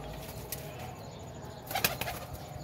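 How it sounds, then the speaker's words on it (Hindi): A pigeon coos softly and low nearby amid steady ambient noise, with a short burst of flapping or rustling near the end. "चेक करें कबूतर"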